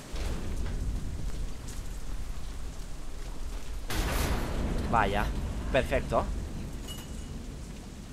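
A rainstorm with thunder in Deadlight: constant rain hiss runs throughout, a sudden broad thunder-like crack hits partway through, and someone speaks briefly over the storm.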